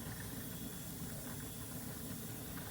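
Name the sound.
steam venting from pressure canner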